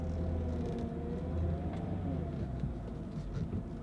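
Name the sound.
Mercedes power steering pump groaning as the wheel turns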